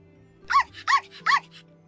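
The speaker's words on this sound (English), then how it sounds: "Hearing walk again, Ollie barks excitedly, not caring about what Artem said" A dog barks excitedly three times in a quick, evenly spaced burst, loud and close, with a faint low hum running underneath.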